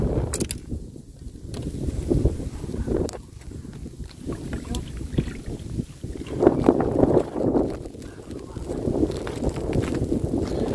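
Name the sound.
wind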